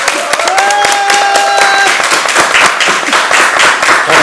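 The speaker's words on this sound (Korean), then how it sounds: "힘찬 박수와 함께 시작하겠습니다" An audience at a Justice Party launch event for an anti-discrimination law campaign claps, giving a loud, dense patter of hands with a brief tonal sound near the start.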